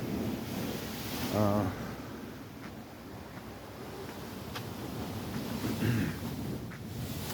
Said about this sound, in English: They roped off this part of the boardwalk because of the waves crashing up over the edge.